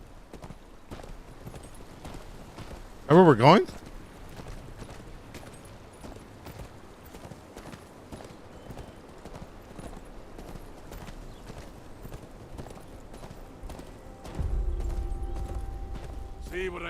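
Horse hooves clip-clop steadily in a Game of Thrones action-adventure video game on the road toward Winterfell, a low continuous patter beneath a brief spoken line and a rising rumble near the end.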